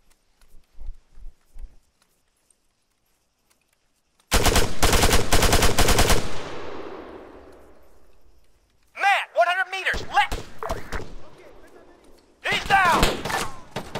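Automatic machine gun fire rattles in a long sustained burst during ArmA 3 infantry gameplay, followed later by a second shorter burst, with someone shouting voice commands in between.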